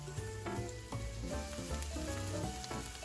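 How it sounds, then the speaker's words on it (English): Shallots sauteing in melted butter and olive oil in a skillet, with a continuous close sizzle and clinking stirring strokes throughout, no voices. "Add shallots and saute for about 8 minutes or until translucent."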